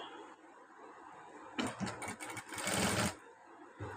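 A sewing machine stitches piping onto the right side of a garment front piece: after a quiet start, a loud, fast whirring run of the motor lasts about a second and a half, then stops abruptly.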